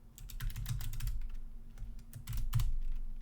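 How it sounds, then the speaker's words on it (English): Steady clicking of a computer keyboard as C++ code is typed into an editor, rapid uneven keystrokes in bursts, close and fairly quiet, with no talking over it. "Let's start typing some text in here, typing some code in here"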